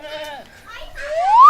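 A goat bleats in a wavering, drawn-out call that ends in a rising cry, loud and close, with a person's voice nearby.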